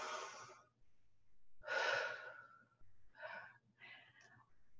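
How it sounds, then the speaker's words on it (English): Slow, deep breaths drawn in and let out close to the microphone, a long airy inhale and exhale followed by two shorter breathy sounds, with no speech. "you want to take a deep breath"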